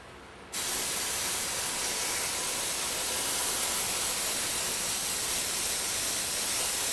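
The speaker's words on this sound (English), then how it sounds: "So we'll just give this a good soaking with the solvent first." Acetone solvent sprayed onto a part of a Meyer E 47 during a rebuild, a sudden loud continuous hiss that starts after a short quiet moment and holds steady to the end.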